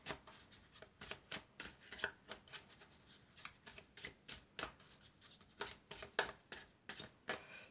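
Tarot cards are shuffled and handled close up in a quiet room, producing a rapid series of crisp, papery slaps and flicks at an uneven rhythm.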